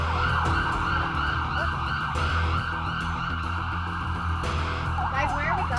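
An ambulance siren wails loud and close on a street in Makati, its rising and falling tone repeating over steady traffic and engine rumble while people talk nearby.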